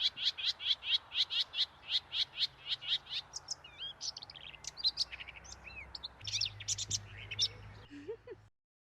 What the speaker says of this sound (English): It's a greater white throat.